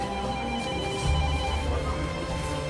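A telephone rings in a café in Corte, a steady electronic tone over a busy room hum, with a low thump and murmur partway through.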